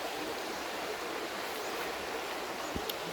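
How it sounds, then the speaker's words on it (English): A small river flows steadily through a green Irish forest, a dense continuous rushing wash of water heard close, with no voices. "nice little river here"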